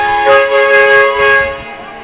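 Fans' air horns blast together at a junior lacrosse playoff game, sustained, brassy, loud and droning, with a slight pulsing swell over a couple of seconds.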